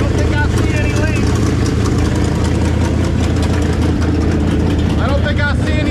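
A 1968 Dodge Charger R/T engine idles steadily with a new Alloyworks radiator fitted, a continuous low rumble heard up close while a person talks over it.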